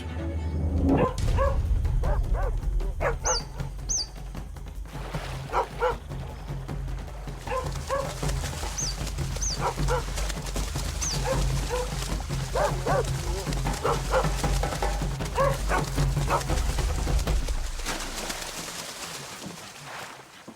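Feral, hungry dogs bark and yip at a distance in a wild urban sanctuary, short bursts repeating over steady outdoor ambience and mixed with whimpering sounds.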